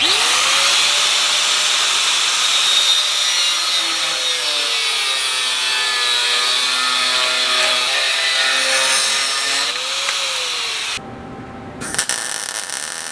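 A 1/2 inch drive impact wrench runs steadily, turning the screw of a homemade motorcycle center lift, a loud continuous whine with a rising and falling pitch, then a short stop and a brief burst near the end.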